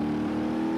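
A D-Series truck engine in BeamNG.drive holds a steady, loud drone throughout the short burst, with no talk over it.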